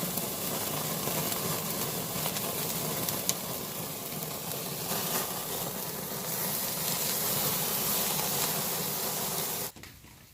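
Prime rib roast searing on a 26-inch Weber kettle grill: a steady, loud sizzling hiss that runs unbroken for about ten seconds, then cuts off abruptly near the end.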